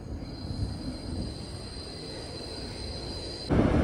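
Manhattan-bound R subway train running underground, a steady rumble with a high, sustained wheel squeal that cuts off abruptly near the end as a louder low roar surges in.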